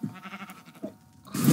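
Minecraft horse mob from a Wind Waker texture pack, a few short nasal bleat-like calls followed by a louder, noisier burst at the end, close and fairly loud with no talking.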